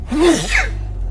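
A single sneeze, close and fairly loud, with a sharp intake and burst, followed by a quiet low hum in the background.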